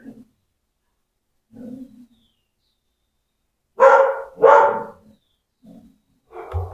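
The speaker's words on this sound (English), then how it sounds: "I think there's a dog out on the street." A dog barks outside on a street: a few soft, distant yips, then two loud close barks in quick succession, followed by quieter scattered barks separated by silence.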